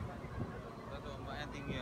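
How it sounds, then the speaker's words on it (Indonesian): Strong wind buffets a ferry crossing Lake Toba in Indonesia amid high waves, making a dense, steady roar of wind noise with no distinct gusts. "Angin kencang."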